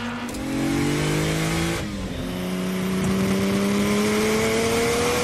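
Lamborghini V12 supercar engine revving loudly and climbing in pitch through the gears, with a brief dip mid-pull before rising again, close and alone.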